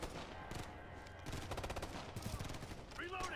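Video game gunfire from Ghost Recon Future Soldier, rapid bursts of automatic shots in quick repeated volleys, fairly faint and mixed with game sounds.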